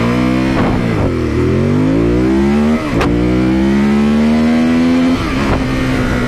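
A new, not yet broken-in 2018 Ducati Monster 821 motorcycle accelerates hard from standstill toward 100, its loud engine climbing through rising gear pulls with brief dips at each shift, close and steady throughout.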